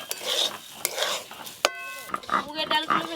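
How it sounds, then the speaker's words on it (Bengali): Moong dal dry-roasting in a pan for dal is stirred with a utensil, giving repeated close scrapes and clinks against the metal with a soft sizzle underneath. "মুগের ডালগুলো বেশ ভালো করে ভাজা ভাজা হয়ে গেছে"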